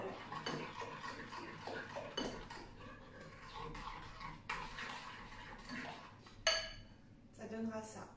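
Clinks and scrapes of a utensil against a bowl as a seed mix is added to a sporty bread cake batter, irregular taps and clatter up close, with a quiet voice now and then.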